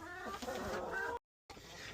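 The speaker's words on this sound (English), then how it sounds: "I just love my chickens." Pet hens clucking softly at close range while being settled for the night, a steady murmur of low fowl calls that breaks off briefly into silence before resuming.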